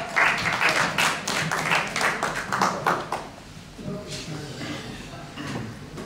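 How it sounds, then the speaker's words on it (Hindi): Clapping from a crowd at a stage performance, dense and steady at first, then thinning into scattered claps that taper off. "आपकी पुरजोर तालियों में मैं दावत देता हूँ हमारे नन्हे से सुपरस्टार को, फुरकान मतलूब साहब को"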